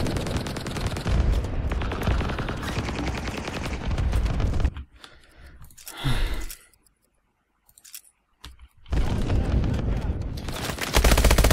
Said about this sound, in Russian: Так, что там кто стреляет?